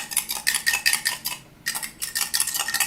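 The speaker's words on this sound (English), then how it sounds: "Mix it up really good with a fork." A metal fork whisks eggs and milk in a bowl, a quick run of rhythmic clinks against the side, a brief pause, then more clinking, close and clear.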